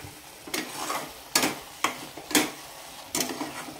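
Dry carrot halwa with cardamom is stirred in a pan, producing repeated rhythmic scraping strokes of a spoon about every half second over a faint sizzle, close and alone.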